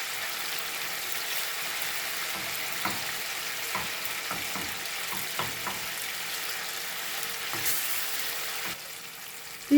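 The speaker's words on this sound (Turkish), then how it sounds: "Salçalarımızı bir güzel kavuruyoruz." Tomato paste fries in a pan for a dried pepper and aubergine dish, giving a steady soft sizzle with occasional stirring scrapes and clicks throughout, no voices.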